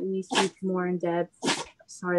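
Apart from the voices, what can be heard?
dog sneezing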